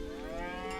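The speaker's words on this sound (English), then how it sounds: "You can milk the cows, dude." A cow in a video game trailer gives a single sustained moo, clear and steady for under a second, with no talk over it.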